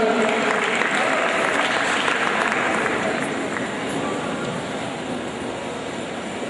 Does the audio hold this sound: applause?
yes